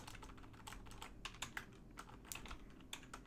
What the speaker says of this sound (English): Somebody teach me how to use a keyboard.